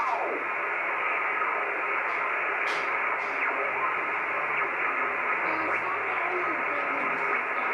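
Ham radio static hisses steadily and fairly loud while the receiver is tuned across the band, with faint brief chirps and tones drifting through the noise.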